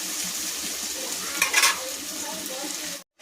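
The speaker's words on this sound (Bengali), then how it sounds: "আলুগুলো আমার ভাজা হয়ে গেছে, এবার ঝিঙেটা দিয়ে আর ঢাকা দিয়ে দেব" Potatoes sizzle in a pan as ridge gourd is added, a steady bright frying hiss with a brief louder burst of spattering midway before cutting off at the end.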